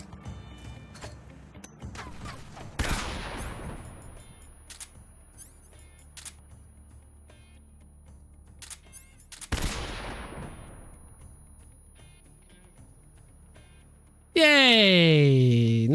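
Gunfire from the easy gun in the Metal Gear Solid video game: two sharp, loud shots several seconds apart with ringing decays, a few fainter clicks between, and a loud tonal game sound bursting in at the end.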